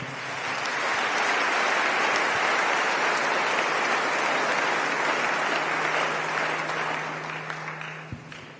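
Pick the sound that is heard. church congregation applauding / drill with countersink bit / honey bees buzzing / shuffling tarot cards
church congregation applauding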